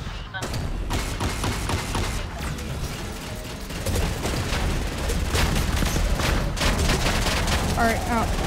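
Sniper and other gunfire ring out in a Fortnite match, sharp cracks and mechanical clatter running densely and loudly for the whole stretch over a steady game soundscape.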